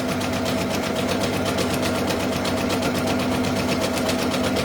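Sewing machine running steadily while stitching a Woodloes bag, a rapid, even mechanical chatter of needle strokes close by, with no talk.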